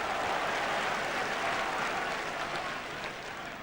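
A football stadium crowd at Leeds United v Newcastle United in the 1997 Premiership gives a broad, sustained roar of reaction from a distance, with a steady wash of noise and no clear speech.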